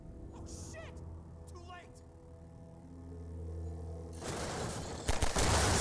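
Half-Life 2 combat in the Route Kanal chapter, someone talking over quiet game ambience before a dense burst of gunfire and explosive noise erupts in the final seconds.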